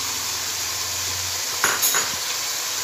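Garlic ginger paste hits a hot pan for a haleem, giving a steady broadband sizzle with a brief stir-and-scrape clatter partway through, close and alone without talk.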